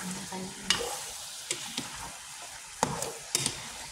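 Chicken sautés in a pan with a soft, steady sizzle, broken by several sharp clacks and scrapes of a utensil stirring against the pan.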